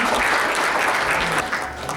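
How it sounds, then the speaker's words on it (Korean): At a Daejeon business award ceremony, the audience breaks into close, full applause, a thick continuous patter that stays loud before easing slightly near the end. "큰 박수를 부탁드리겠습니다"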